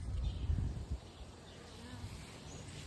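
Low bee buzzing hums close by around teddy bear sunflowers, stronger at first then fading to a steady faint drone over outdoor background noise.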